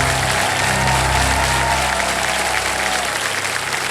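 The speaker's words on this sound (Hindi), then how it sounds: "तो जोरदार तालियां बज जाए" A studio audience on the Kaun Banega Crorepati game show stage gives a burst of dense, sustained applause for a contestant. The clapping holds at full strength for about four seconds over low stage hum.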